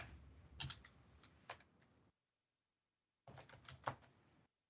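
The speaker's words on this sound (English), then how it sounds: "I'm going to type in 2021 Keystone" Fingers type on a computer keyboard, entering text into a CRM program in two short runs of quick, soft clicks separated by a silent pause, close and quiet.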